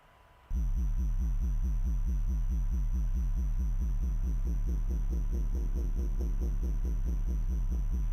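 A steady pulsing 8-bit machine preset on an iPad synthesizer switches on abruptly and keeps throbbing in a fast, even rhythm of buzzy, low, stepped tones, loud and alone.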